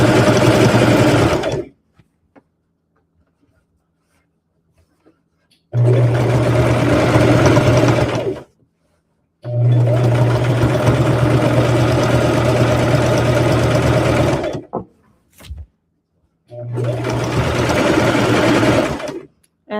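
A sewing machine stitches a rag quilt in loud, close bursts of fast mechanical whirring, running for several seconds at a time and separated by short silent pauses where it stops.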